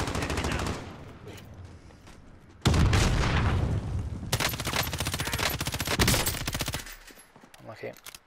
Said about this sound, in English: There's someone else shooting him from below you.